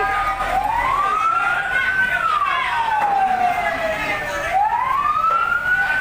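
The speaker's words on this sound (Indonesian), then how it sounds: "Pemadam kebakaran telah datang." A fire engine siren wails, sweeping slowly up and down, steady and fairly close, over a constant background rumble at a market fire.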